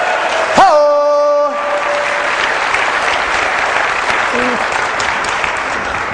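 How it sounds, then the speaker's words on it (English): A crowd gives a big round of applause at a public speaking event, loud sustained clapping that opens with a short voiced whoop-like sound and carries on evenly. "Can we have a big round of applause for Lupita?"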